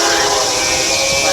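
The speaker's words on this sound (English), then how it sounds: "Here comes CSX QO31, southbound by Selma, North Carolina on the number 2 track." CSX freight train QO31 southbound on track 2 past the Selma station in North Carolina, a loud steady rumble with a sustained horn-like tone running through the whole stretch.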